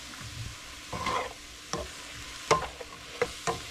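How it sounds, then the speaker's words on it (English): Seasoned chicken browns in a pan with soy, pepper and seasoned salt, giving a low steady sizzle broken by several sharp stirring scrapes and clacks of a utensil against the pan. "we're just gonna brown that up in the pan"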